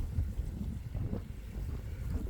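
Strong, brutal wind outdoors while panning for flour gold, pounding the microphone with a continuous low, churning rumble and no voices.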